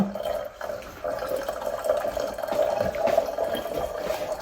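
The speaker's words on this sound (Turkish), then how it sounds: "Sıcak suyumuzu hemen veriyor. Sıcak, ılık ve soğuk su." Hot water runs steadily from a tap, a continuous close splashing flow with a brief dip near the half-second mark.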